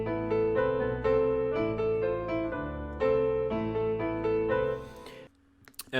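Dark piano sample built in FL Studio with effects, playing sustained chords alone with a rich, warm resonance, ending on a brief fade and a few faint glitchy blips.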